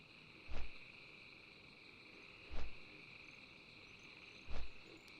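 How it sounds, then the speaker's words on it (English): Crickets chirp steadily in a quiet outdoor ambience in Un'Goro Crater in World of Warcraft Classic, with a soft repeating thump every two seconds or so. "Can hear the crickets chirping."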